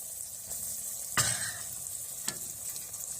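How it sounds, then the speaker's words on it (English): Sausage and bacon dropped into a roux in a cast iron skillet for an off-grid gumbo, a soft steady sizzle with a couple of brief spoon scrapes and splashes, close but fairly quiet. "I'm going to take just a slotted spoon and just start dumping the sausage and the bacon into the roux"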